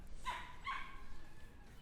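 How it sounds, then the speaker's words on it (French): A small dachshund-type dog barks twice in quick succession, sharp yips at moderate distance over a quiet outdoor background with faint traffic. "un chien qui aboie"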